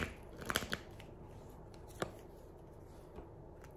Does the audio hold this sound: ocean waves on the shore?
no